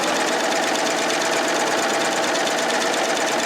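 Baby Lock Triumph sewing machine stitching a wave stitch, a steady, fast mechanical whirring and rattling that runs loud and unbroken throughout with no pauses.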